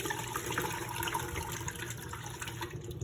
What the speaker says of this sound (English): Dump out as much water as we can.